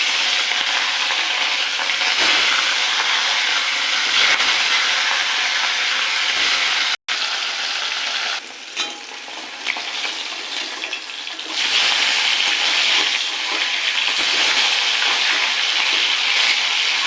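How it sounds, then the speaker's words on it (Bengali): Rohu fish frying in hot salted oil, a dense continuous sizzle close by with a brief cut and a quieter stretch midway before the loud crackle returns, with no voices. "মাছটা ভাজা হয়ে গেছে, আর তুলে নেব।"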